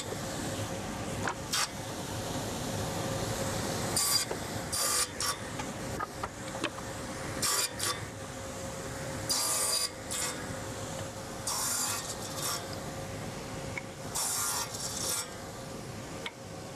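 Wood pieces for a robotic mower garage are cut with a saw in short repeated rasping strokes that come in uneven bursts over a steady background hum.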